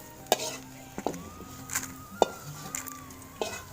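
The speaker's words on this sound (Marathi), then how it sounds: "हे आपण धन भाजून घेऊ" Coriander seeds roast in a pan over a wood-fired clay stove, a soft crackle and sizzle punctuated by a handful of sharp metallic scrapes and clinks of the stirring spoon, close but fairly quiet.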